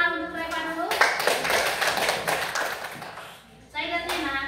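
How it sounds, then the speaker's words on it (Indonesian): Small group clapping hands for a child, a burst of quick, close clapping lasting a few seconds between stretches of a voice speaking before and after. "Tepuk tangan untuk Reva dulu."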